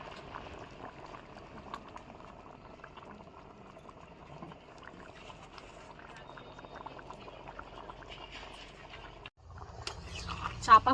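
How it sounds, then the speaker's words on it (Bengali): Chicken ghugni curry bubbling in a pot, a soft, steady simmering hiss with faint pops, quiet and close, ending in a louder clatter as the lid comes off. "খুলে দেখে নিয়েছি তরকারি ফুটে গিয়েছে"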